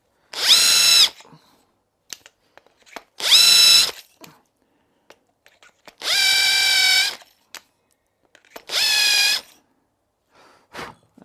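A power tool whines in four short bursts with pauses between as a pen blank's end is trimmed of excess resin down to the brass tube, close and fairly loud, with faint clicks and handling in the gaps.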